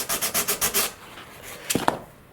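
Close sanding of CA-glued tips on a composite RC sailplane wing, about seven quick rhythmic rasping strokes, then a pause and two sharper scrapes.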